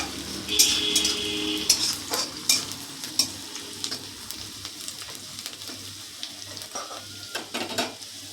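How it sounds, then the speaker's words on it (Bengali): Onions with crushed ginger fry in a pan while a spoon keeps stirring them. A continuous sizzle runs under repeated clinks and scrapes of utensil on metal, all close, with no speech. "যে পেঁয়াজের কালারটা চেঞ্জ হওয়া পর্যন্ত আমি নাড়াচাড়া করতে থাকবো।"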